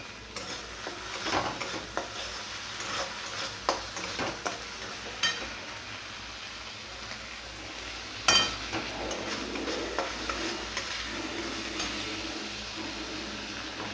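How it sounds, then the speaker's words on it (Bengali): Ginger, cumin, coriander, dried chilli, salt and turmeric sautéing in a pan with potatoes nearby, a steady sizzle broken by repeated scraping stirs and occasional spoon clanks against the pot, close and continuous. "আদা জিরে ধনে শুকনো লঙ্কা নুন মিষ্টি হলুদ এই মশলাগুলো দিয়ে দিচ্ছি দেওয়ার পর একটু কষাবো"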